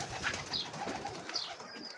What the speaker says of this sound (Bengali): দেখেন এই যে আমার কবুতর